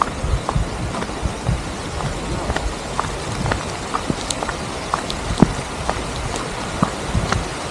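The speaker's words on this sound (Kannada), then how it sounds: "ಮಳೆ ಬತ್ತಾಯ್ತು, ಹೋಗ್ರು" Rain falls outdoors at a hidden spot in Maharashtra, a steady hiss of patter across the ground with scattered sharper drop clicks throughout.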